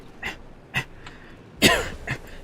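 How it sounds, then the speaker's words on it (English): A person coughs several times in short, rough bursts, the loudest one near the end, with brief breathy pauses between them. "So sorry for my sad coughs."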